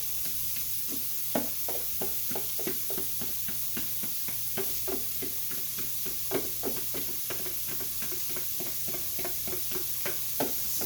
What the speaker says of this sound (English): I'm going to go ahead and add that in now, and then I'm going to give that a stir.